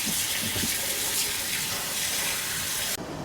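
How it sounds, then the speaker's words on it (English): Cold water pours steadily into a stock pot of bones and vegetables with tomato paste, making a continuous close rushing, splashing gush that lasts about three seconds before cutting off abruptly. "Just put everything in the pot, cover with cold water."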